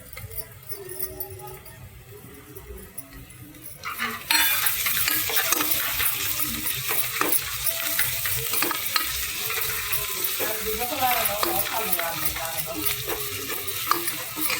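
Ginger garlic paste fries in a pan: a sudden, loud, steady sizzle breaks in a few seconds along and keeps going. Stirring scrapes and clinks sound close up throughout.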